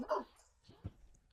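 A dog gives a short sharp bark, then a fainter whimpering yip follows in a quiet setting outdoors, a brief close burst with little else around it.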